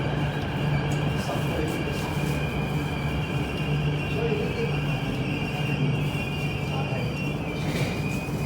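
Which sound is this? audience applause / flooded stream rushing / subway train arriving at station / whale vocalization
subway train arriving at station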